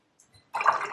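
Water is added to paint, making a brief liquid swish and slosh that starts after a couple of tiny drips and lasts about half a second, close and clear with no voices.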